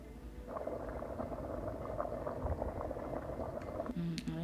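Saag made from mustard greens bubbling as it cooks in a pot, a steady close-up simmer of soft pops and gurgles, with faint voices near the end.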